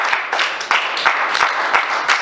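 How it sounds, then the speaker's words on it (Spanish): A church congregation at a Spanish-language service claps in a loose, steady rhythm, with bright hand claps arriving roughly three times per second, loud and close, with no talking over them. "¿Se alegra por ello? Denle un aplauso,"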